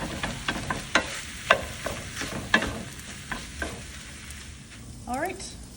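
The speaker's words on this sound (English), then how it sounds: "we're just going to cook this until the ground beef is all" Ground beef browns in a pan for sloppy joes with a steady sizzle, broken by repeated scraping stirs from a spatula and a brief squeak near the end.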